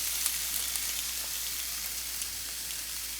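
Flank steak sears on a hot grill with a steady, loud, unbroken sizzle and faint crackles throughout, no voices.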